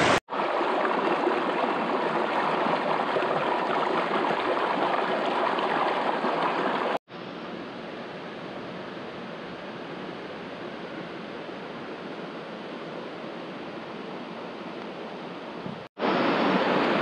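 Spring-fed river in a natural setting, a steady broadband rush of flowing water, loud and close, continuous apart from two brief dropouts.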